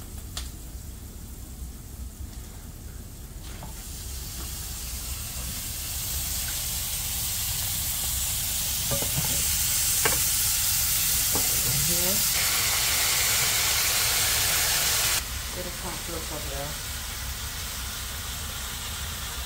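Green seasoning, garlic and onions cook with curry and cumin, making a broad, continuous hiss that swells in the middle and eases near the end, with a few faint clinks over it.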